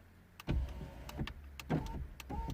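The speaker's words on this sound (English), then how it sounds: "when I press to open and close that button, that window" A Mini One R50 driver's power window motor whirs in short bursts, starting and stopping several times with clunks as the glass moves up and down, close by.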